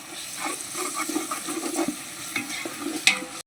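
Ginger garlic paste, with curry leaves and onions, fries in a pan for fish biryani, a soft continuous sizzle under steady stirring scrapes, close and moderate in level.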